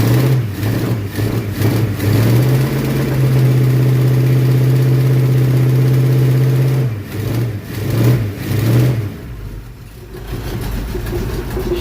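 A 1965 Ford Mustang with a 347 engine runs roughly after a cold start with no choke, its loud idle chugging unevenly, surging into a steady drone and then loping again.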